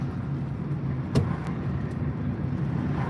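Steady low road rumble and engine hum fill a moving car, heard from the cabin, with a couple of faint clicks and no one talking.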